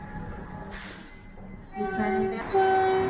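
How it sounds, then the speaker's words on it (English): A Melbourne Metro train starts moving from Parkville station with rising mechanical rumble and squealing wheel tones that grow louder toward the end. "The train is ready to depart."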